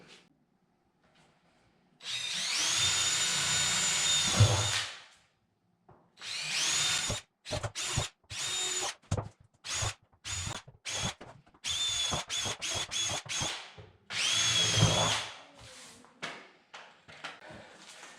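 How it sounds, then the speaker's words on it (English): A power drill whirs in a long burst, then in many short bursts one after another, close up, boring holes in a plastic sump basin with a plastic scraping edge to each bore. "we're going to have to go ahead and drill some holes in this so that water can perforate"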